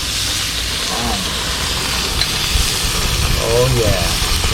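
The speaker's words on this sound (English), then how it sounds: "Oh yeah, get that sizzle," Venison steaks from a Texas nine-point buck sizzle on a hot little Coleman grill, a steady broadband hiss running the whole time with louder crackling bursts, while someone talks excitedly over it.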